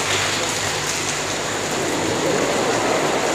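A crowd at a youth summit hall claps and slaps their hands quickly to imitate heavy rain, producing a thick, continuous roaring patter that fills the space evenly from start to finish.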